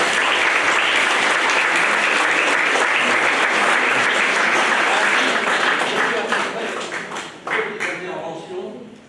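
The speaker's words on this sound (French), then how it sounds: "je vous demande d'applaudir les deux auteurs." Conference audience applauding authors at a commemorative lecture, a dense sustained burst of clapping that holds steady and then thins out toward the end.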